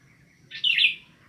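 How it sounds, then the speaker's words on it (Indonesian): A bird close by gives a single bright chirp, short and clear against quiet background. "Terima kasih burung, kau datang untuk menghibur dan menguatkan kami."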